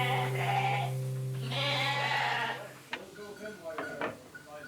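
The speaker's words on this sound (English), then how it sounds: "While the last of the sheep are being sheared" Sheep on a Faroe Islands farm bleat repeatedly and loudly while the last of the flock is sheared, with long wavering calls followed by shorter bleats and a few faint clattering knocks near the end.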